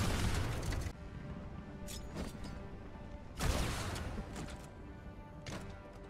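Halo 2 video game explosions from a frag grenade and a rocket: two heavy booming blasts a few seconds apart, each with a crackling, rumbling tail, plus smaller pops between them, loud with no talk.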